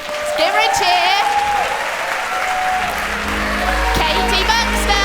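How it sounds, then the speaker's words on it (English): An audience claps and cheers steadily throughout to welcome a shy performer onstage, with whoops and high cheers rising over the sustained applause. "Let's give her a cheer."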